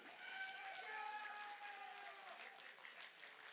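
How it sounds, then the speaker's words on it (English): Crowd applause at a BlazBlue: Central Fiction top-eight fighting game tournament, a steady wash of clapping that holds for several seconds at moderate distance, with a faint voice mixed in. "Let's get a round of applause for our Central Fiction top eight."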